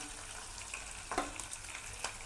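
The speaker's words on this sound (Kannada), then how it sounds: "ಫ್ರೈ ಆಗ್ಬೋದು ಸ್ವಲ್ಪ ನೋಡಿ" Onions fry in oil in a pan for onion chitranna, producing a steady close hiss and sizzle with a few soft stirring scrapes and clicks, and no talking.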